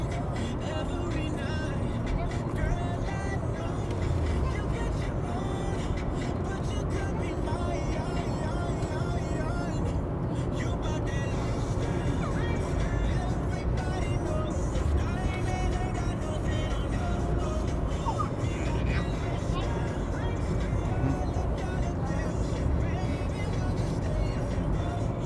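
A car drives along a road in Iceland, its steady engine drone and tire rumble running continuously at close range throughout, with voices talking over it at times.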